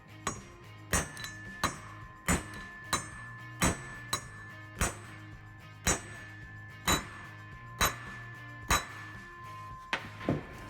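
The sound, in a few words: hammering a wheel bearing race into place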